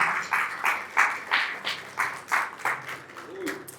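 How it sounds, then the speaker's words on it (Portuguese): Congregation claps together during a church service, a steady rhythmic beat of about eight claps spread through the room at moderate loudness, with faint voices underneath. "Vamos aplaudir o Senhor? Aplauda aí para você acordar"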